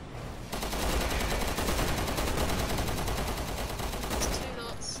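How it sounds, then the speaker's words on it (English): Rapid, sustained automatic gunfire from Resident Evil 6 rattles in a dense, even stream, loud and close, lasting several seconds with a faint voice beneath. "He's shooting at Sherry."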